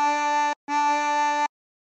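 Two repeated draw notes on a chromatic harmonica through hole five, each held about half a second with a brief gap between, steady reedy tone, close and alone without talk.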